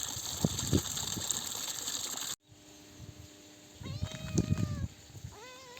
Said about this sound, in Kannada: ಈ ಬೆಕ್ಕು ಹಾಕೋ ಆಗ್ಲಿಂದ ಭಾಳ ಕಾಟ ಕೊಡ್ತೈತಪ್ಪ ಮೇವು ಮೇವು ಅಂತೈತೆ